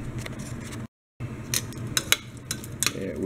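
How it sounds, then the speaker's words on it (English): Metal tongs turning venison shanks in a slow cooker, a few clinks and scrapes with wet meat shifting in between, a brief dead gap early on. "we're going to use our tongs and we're going to mix that all in"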